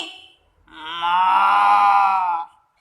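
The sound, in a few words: storyteller imitating a cow mooing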